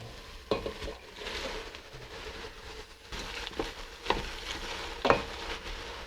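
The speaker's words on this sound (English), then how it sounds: "Cook the prawn shells for a few minutes until they all turn red." Prawn shells fry in a pan with a steady sizzle, while a utensil stirs and scrapes them in several distinct knocks, close and fairly quiet.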